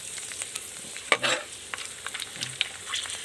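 Dried pork rinds frying and puffing up in hot oil, a close, steady sizzle and crackle with a few sharper pops and stirring scrapes.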